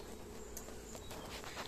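Faint, continuous buzzing of many bees flying around a hive over a soft outdoor background.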